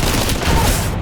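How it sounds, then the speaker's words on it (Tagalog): A frag grenade explosion in an online shooter game, a loud, dense burst of blast noise that fills the whole moment with a rumbling, crackling roar. "Throwing B. a frag grenade."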